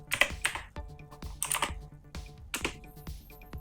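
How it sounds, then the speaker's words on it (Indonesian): Keys clacking on an HP GK400F mechanical keyboard, typed in short uneven bursts of crisp clicks with brief pauses between them, close to the microphone and clear, with no voices. "Mikrofonnya akan saya dekatkan agar teman-teman bisa mengetahui bagaimana suara dari keyboard ini."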